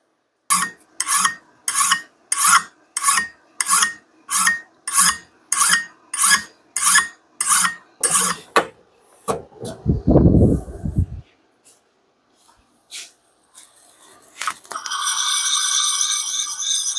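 A hand file rasps along the bevel of an axe head in about fourteen even back-and-forth strokes, close and crisp, followed by quieter handling noises and a brief rustle.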